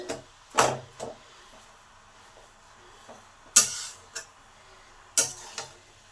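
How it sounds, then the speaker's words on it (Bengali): Grated papaya halwa is stirred in a pan over medium heat: a few separate scraping, clattering strokes of a spoon against the pan, spaced out with quiet gaps between them. "এবারে সমানে নেড়ে যেতে হবে"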